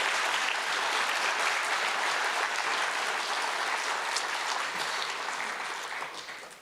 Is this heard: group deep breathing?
no